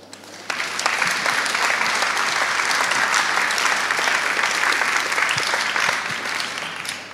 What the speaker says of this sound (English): I think that's worth an applause.